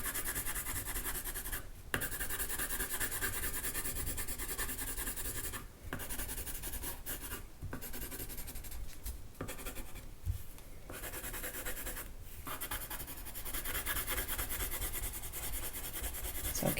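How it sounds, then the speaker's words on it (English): Colored pencils scratch and rub continuously across a paper sheet, close up, in long strokes broken by a few short pauses. "So keep coloring"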